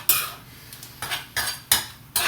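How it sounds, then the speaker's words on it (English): A metal utensil clanks and scrapes against a pot while shrimp and cheddar grits are mixed with bacon, five distinct loud strokes in an uneven rhythm, with no talking. "Let's mix this around."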